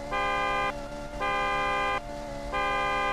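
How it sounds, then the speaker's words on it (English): A car horn in a roleplay driving game gives three long, evenly spaced honks, each about half a second, loud and close with no talk over them. "I'm gonna say on third honk."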